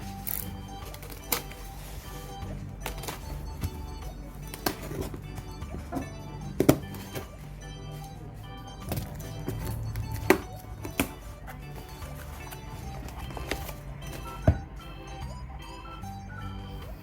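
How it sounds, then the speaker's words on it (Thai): A vivo V20 Pro phone box being opened, with scattered plastic-and-cardboard thunks, taps and crinkles at close range over a low steady background hum, no talking. "เดี๋ยวเรามาแกะกล่องกัน"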